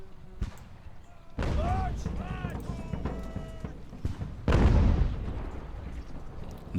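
Artillery batteries firing in the naval game Ultimate Admiral: Age of Sail, with sharp cannon blasts and booming reports, the loudest near the middle, amid shouted battlefield commands.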